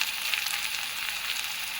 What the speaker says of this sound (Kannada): ಸ್ವಲ್ಪ ಚೆನ್ನಾಗಿ ಬೇಲಿ ಎಣ್ಣೆ ಬಿಡಲಿ